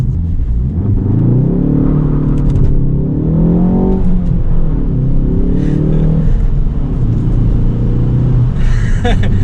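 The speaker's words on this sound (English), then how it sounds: "Okay, so you get a little bit of wheel spin." A 2022 Ford Focus ST engine revs hard and loud through a launch with a little wheel spin, a rising roar with brief tire chirp, continuous throughout.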